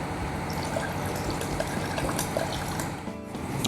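Slow urethane reducer poured into automotive primer and mixed, a steady close trickle of liquid that runs continuously and eases off briefly near the end.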